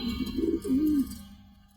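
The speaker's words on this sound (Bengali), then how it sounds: "এই দুইটা আমার অনেক পছন্দের কবুতর" A pigeon gives a short, soft cooing call, low and throaty, close by and otherwise quiet.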